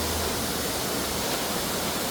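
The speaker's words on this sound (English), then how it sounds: "I want you guys to see this waterfall" A loud waterfall roars in a steady, dense wash of rushing water that fills the whole clip without a break, close and continuous, with no voices.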